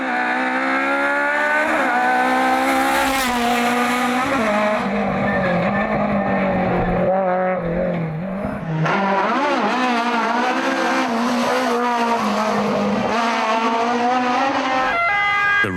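A Fiat 131 classic rally car drifts at the Rally Legend event, its engine revving loud and close with rising and falling pitch, gear changes and tire squeal throughout.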